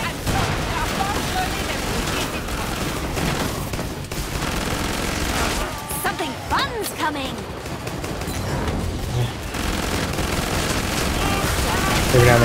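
Sustained automatic machine gun fire rattles nonstop in the co-op horror shooter Killing Floor 2, loud and dense throughout, with game effects and brief screeches layered in.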